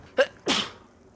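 A single sneeze during a Black Ops 2 Zombies gaming session, a short sharp intake followed by a bursting exhale, close and fairly quiet.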